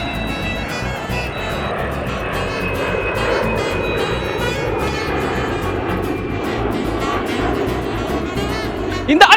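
A small RC toy airplane flies over a windy beach, its motor giving a continuous buzzing whine against gusty wind noise, with a brief louder bump at the end.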